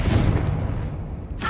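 A Confringo blasting spell goes off in Hogwarts Legacy inside a tomb, a loud booming burst with a rumbling low-end tail that fades before a second bright crack near the end.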